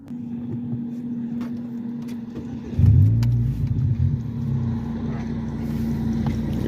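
Manual-transmission car engine idles steadily, then a sudden burst of low revving rises about halfway through and settles back into a steady running hum.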